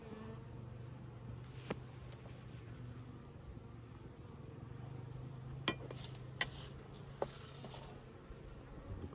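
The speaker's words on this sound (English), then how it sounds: "Quiet bees." Soft, steady buzzing of honeybees in a small hive drones low and close during a midwinter inspection, with a few faint clicks and taps scattered through it.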